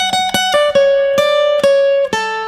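A short electric guitar minor blues phrase: a handful of plucked notes and bends ringing out clearly, played alone and up close.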